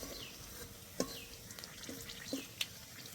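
Dried red chillies, bay leaf and whole cumin frying in oil, a faint soft crackle with a few light spatula taps and clinks, quiet and close with no speech.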